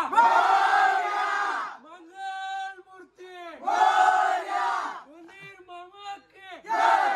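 A crowd of young people shouts the Ganpati Bappa chant at a Ganesh festival in Konkan, loud call-and-response bursts where a lead voice calls and the group roars back, repeated three times.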